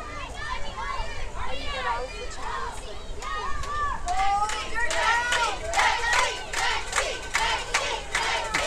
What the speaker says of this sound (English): Big cheer going up for Lexi Buchel here in the crowd